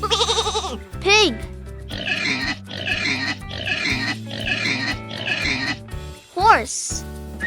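A pig oinks and grunts in a run of five quick, nasal bursts over a soft musical backing, framed by short vocal cues before and after.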